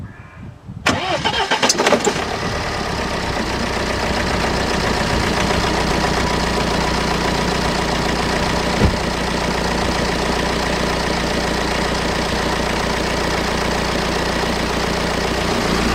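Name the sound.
BMW engine starting and idling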